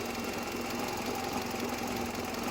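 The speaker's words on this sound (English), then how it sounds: "I've actually had this car running for 20 minutes." A 2002 Mercedes A Class engine idles steadily after twenty minutes of running, a low continuous hum with faint mechanical ticking, heard up close with no talk.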